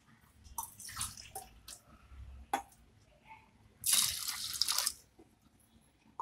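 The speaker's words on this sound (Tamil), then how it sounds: "வாஷ் பண்ணிட்டு வந்து ரெண்டு கிளாஸ் தண்ணி ஊற்றிக்கோங்க" Water poured into a pot of washed lentils while making Chettinad-style dal makhani, heard as a few short splashing bursts and drips, with one longer louder pour near the end, close and alone without talk.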